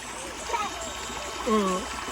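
Steady wash of stream water flowing at a jungle creek on Bukit BDA in Bintulu, a constant hiss with light splashing while children's voices chatter and call over it.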